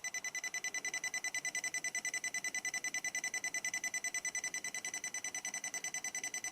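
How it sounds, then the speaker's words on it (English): A FNIRSI radiation detector alarm beeps near radium watches, a rapid, regular train of shrill electronic beeps repeating several times a second, steady and close for the whole stretch. "some radioactive watches can't be missing here, triggering the alarm"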